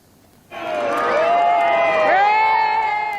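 A crowd outside a castle cheers at a royal wedding, with a sudden surge of shouting and whooping that swells and holds loud and lively.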